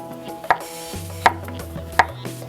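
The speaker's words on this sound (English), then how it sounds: "just cut them thin into little circles so that they're thin but still thick enough to grill" Three sharp knife chops slicing eggplant into thin rounds on a cutting board, spaced evenly and close by, with a low hum and faint clatter between them.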